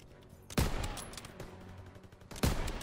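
Gunfire in Call of Duty WWII, two sharp loud shots about two seconds apart with scattered distant rifle cracks and battle noise between them.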